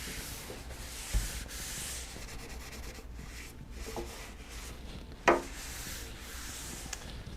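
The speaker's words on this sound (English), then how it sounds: "Okay, that is sanded." Hand sanding of a wooden surface during surface prep: a steady, close scratchy rubbing of abrasive paper over wood, continuous and even with a couple of brief knocks, no voices.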